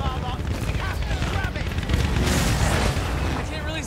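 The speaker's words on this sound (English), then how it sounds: "They're firing at us from everywhere." Battlefield 1 gunfire on a burning blimp, dense and continuous with heavy booming shots over roaring wind and fire, and a voice speaking briefly over the din.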